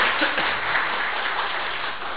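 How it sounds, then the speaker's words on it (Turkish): Welcoming applause from a seated audience at a Turkish speech-training event as a news presenter is invited to the microphone, an even, dense patter of many hands clapping continuously, moderately loud and without voices. "Sevinç Hanım'ı ben mikrofona davet ediyorum alkışlarınızla"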